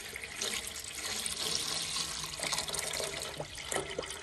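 Water running steadily into an ultrasonic cleaner being set up to age whiskey, a continuous soft splashing and trickling pour heard fairly close and alone.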